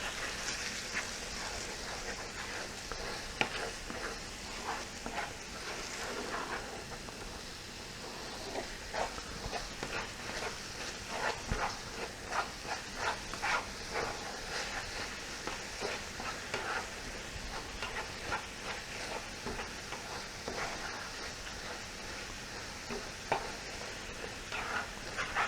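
Rehydrated freeze-dried eggs and ham frying in a hot pan, a steady low sizzle with frequent scraping and stirring strokes from a utensil throughout, moderately quiet and without talking.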